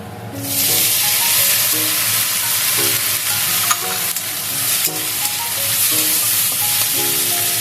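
Chopped tomato hits onions fried until reddish in a pan for a small-fish chorchori. A loud, close sizzle erupts and hisses steadily, broken by repeated scraping stirs.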